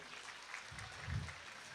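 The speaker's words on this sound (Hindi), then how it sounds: "आप सबके लिए तालियां बनती है" Faint audience applause at a live dayro stage event in Gujarat: a soft, steady patter of clapping that swells briefly near the end, heard from a distance and lasting under two seconds.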